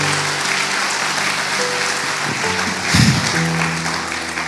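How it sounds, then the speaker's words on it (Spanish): Church congregation applauding during a sermon, a steady wash of clapping with sustained tones from instruments or voices underneath and a brief swell near the end. "Vamos, si va a aplaudir, hágalo con fe."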